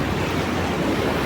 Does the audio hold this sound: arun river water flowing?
yes